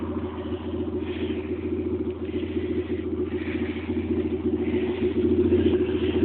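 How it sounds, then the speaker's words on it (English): A Citroen Saxo SX car engine runs steadily at idle in a garden near a road, giving a low, even, continuous rumble that swells slightly toward the end. "that noise you hear, apart from the road, is my car."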